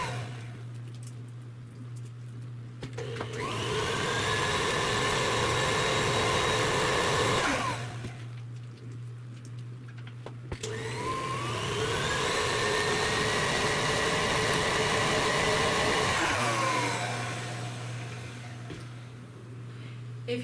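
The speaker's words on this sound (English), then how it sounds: "whip it for about 1 to 3 minutes until it about doubles in size" An electric mixer whipping butter for cupcake frosting runs in two long, loud whirring stretches separated by a short pause, with a steady low hum between them and no talking.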